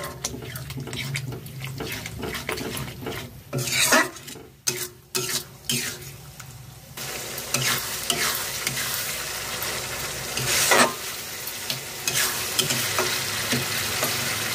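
Garlic pickle with vinegar bubbling in a pot over low to medium flame, a dense, constant sizzle and hiss with stirring clatter close by.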